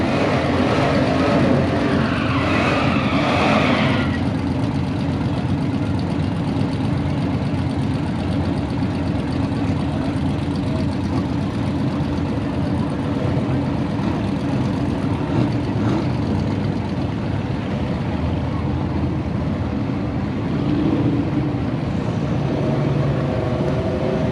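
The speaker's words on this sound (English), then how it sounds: "This is a naturally aspirated small block car." Naturally aspirated small block drag race car, a Fox body, rumbles steadily at a constant loud drone for the whole stretch, with no clear rise of a launch or pass.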